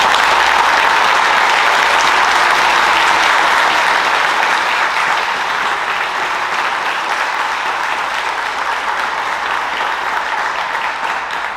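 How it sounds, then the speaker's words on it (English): Sustained, loud applause from a graduation audience for police officers, command staff and instructors at a junior police academy ceremony, a dense wash of many hands clapping steadily throughout. "let's all please give the police department, the command staff, the instructors, all the police officers a round of applause"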